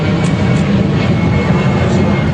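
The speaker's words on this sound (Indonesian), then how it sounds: "Lalu bang suara pesawat." An airplane flies overhead, producing a loud, steady broadband roar that fills the whole short stretch without a break, with no talk over it.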